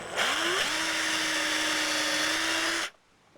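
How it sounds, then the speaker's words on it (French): Power drill boring a hole while making a lamp: the motor whines up with a rising pitch, then holds a steady, loud, close buzzing tone for over two seconds before cutting off abruptly. "je serre et je peux percer le trou"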